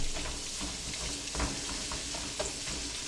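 Sliced onions sizzle steadily in melted butter in a pan, a loud continuous frying hiss with occasional stirring scrapes, close up and without talk.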